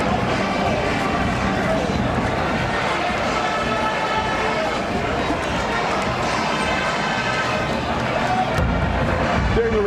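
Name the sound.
football stadium crowd cheering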